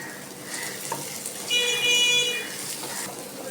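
Cumin seeds and cashews frying in a kadai, a soft steady sizzle with brief stirring scrapes, swelling louder midway then settling, close and alone without talk.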